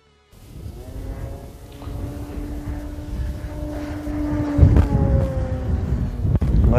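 An RC model plane's 570 kV electric motor whines at a steady pitch that slowly rises, with wind buffeting the microphone and a sharp knock near the end.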